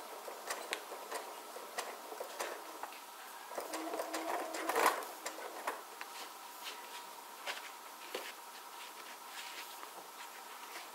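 A sewing machine stitching a free-motion Orange Peel quilting pattern runs in a steady, fast rapid-fire hum and ticking, close and fairly quiet, pausing briefly midway before resuming.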